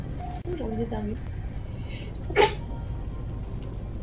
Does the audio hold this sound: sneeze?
yes